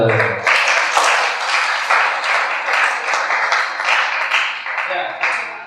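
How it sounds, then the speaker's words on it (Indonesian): An audience claps together after a talk on forest conservation at a sharing session, a loud, even burst of many hands sustained for several seconds before easing off, with brief voices at the start. "Tepuk tangan dong."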